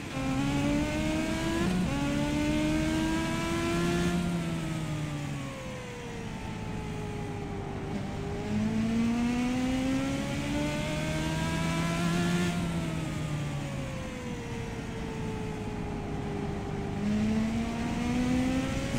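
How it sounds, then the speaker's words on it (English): A Legends race car in the AMS American Motorsports Simulations racing game revs through repeated rising and falling engine sweeps, loud and steady, as the car accelerates and slows through each corner, with no one talking. "Let's jump in the car with Lou Lesky, see how he's handling"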